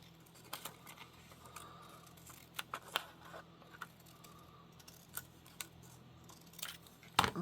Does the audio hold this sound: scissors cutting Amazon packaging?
yes